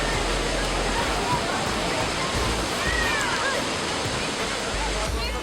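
Niagara's Horseshoe Falls roars in a dense, unbroken wash of crashing water heard up close at the foot of the falls, loud and constant throughout.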